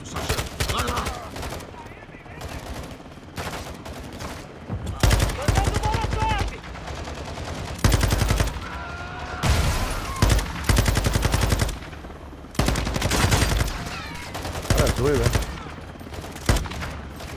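Repeated bursts of rapid automatic gunfire in the video game Modern Warfare II, loud and close, broken by short pauses.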